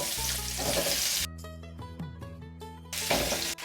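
Cut pumpkin dropped into hot oil with dry red chili, bay leaves and panch phoron bursts into loud sizzling, then quiets to a softer crackle before a second strong surge of frying near the end.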